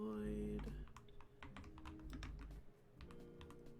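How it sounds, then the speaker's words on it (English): Fingers typing on a computer keyboard: quick, irregular clicks and taps in short bursts, close and fairly quiet, with a faint hum underneath. "I'm typing that in chat now."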